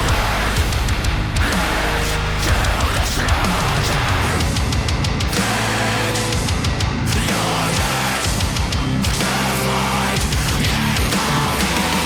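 A band's song mixed by its producer plays loud and dense throughout, full-range instruments blending in a steady rhythmic groove with no talking over it.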